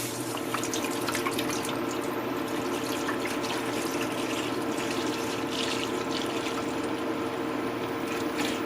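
Almost a gallon of milk pours steadily into a pot of melted butter, a continuous close liquid splashing and trickling that lasts the whole stretch without pause.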